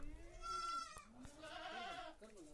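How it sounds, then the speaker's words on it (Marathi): Goats bleat several times close by as they are let loose one by one, wavering cries overlapping in a quiet farmyard. "एक एक सोडतो आता मग आता शेळ्या सोडल्यात ना"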